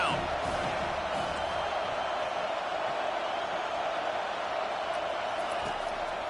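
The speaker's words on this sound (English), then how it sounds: "Decibels rising as the crowd gets behind this defense on 3rd down" A football stadium crowd on a third-down defensive play makes a steady, broad roar. The noise stays at a constant level while a commentator talks over it.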